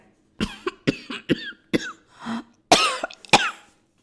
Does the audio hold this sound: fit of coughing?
yes